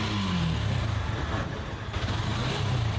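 A used motorcycle engine idles steadily and close by, with a low, continuous rumble throughout and a slightly strained, tight tone, heard alone without talk.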